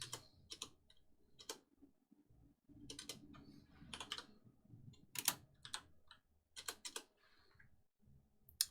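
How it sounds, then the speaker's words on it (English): Notes are typed on a computer keyboard in short irregular bursts of quiet clicking keystrokes with brief pauses between, soft and close with no talk. "I'm typing these notes out on a word processor"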